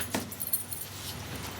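Keys jangle in a short metallic rattle with two or three bright jingles, close and fairly loud, with no voices over them.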